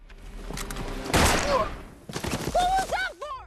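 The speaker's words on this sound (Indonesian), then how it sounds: "langsung menembak mati analis di tempat" In an action film scene, a sharp gunshot crack rings out mid-scene, framed by tense soundtrack noise and followed by wavering, whining tonal effects.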